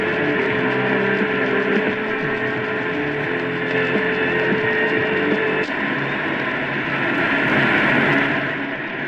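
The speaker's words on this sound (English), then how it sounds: "It sounds like static, but there's actually heavy metal music playing." Static hisses steadily on daytime AM broadcast band reception through a Tecsun PL-880 shortwave radio, with heavy metal music buried faintly beneath the dense noise and a constant hum throughout.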